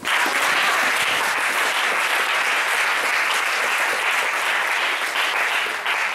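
Church congregation applauding in a sustained, dense burst of clapping that stays loud and even from start to finish.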